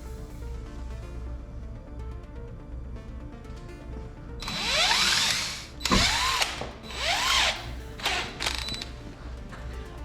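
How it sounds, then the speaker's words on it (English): Power drill boring a pilot hole while a Chamberlain wall-mount garage door opener is installed, with a low motor hum followed by loud whining bursts as the bit spins up and bites, close by. "But first we need to do a pilot hole to guide them in"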